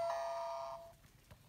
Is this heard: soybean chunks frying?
no